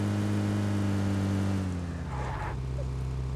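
A car engine drones in a video game, holding steady at first, then dipping in pitch as it shifts or slows. The engine stays loud and close throughout.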